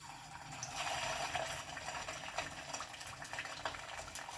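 Barnyard millet vadas slipped into hot oil and frying over low flame, giving a steady close-up sizzle and crackle that holds throughout with no talking.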